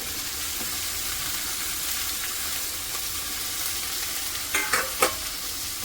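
Papdi beans and potatoes go into hot oil mixed with chutney and are stirred, making a steady, close sizzle throughout, with a few brief clinks of the spoon near the end.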